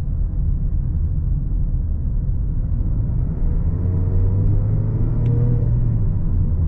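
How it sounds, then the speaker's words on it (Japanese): A Mazda 3 with a 1500cc gasoline engine in manual mode rumbles steadily and then rises in pitch as it accelerates, a smooth continuous drone heard from inside the vehicle. "MT モードで引っ張る時の加速やエンジン音は最高です。"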